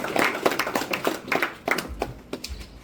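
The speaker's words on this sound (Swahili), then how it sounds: "Haya, makofi kwake." An audience at a community meeting in Nakuru applauds, sounding as a burst of fairly close hand claps that thins out to a few scattered claps by the end, with no talking over it.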